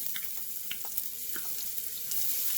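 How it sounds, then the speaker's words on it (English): Mustard seeds splutter in hot oil in a pan with chopped onion for a bitter gourd fry, giving a steady close sizzle with scattered small pops and crackles, no voices. "Now the mustard seeds are spluttering."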